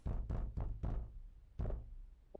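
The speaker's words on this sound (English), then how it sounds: "What's that knocking?" Heavy knocks on a door in the detective game Detective Instinct: Farewell, My Beloved: four quick, loud thuds in a row, a short pause, then one more firm knock, with no voices over them.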